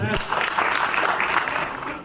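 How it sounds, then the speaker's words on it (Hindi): Audience at a billionaire business conference in Shimla clapping together, a dense burst of applause that swells quickly and holds steady before easing slightly toward the end. "मैं चाहता हूं कि जोरदार तालियों से आपके लिए जोरदार ताली बजाएं"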